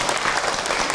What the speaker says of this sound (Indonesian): tepuk tangan buat Aiman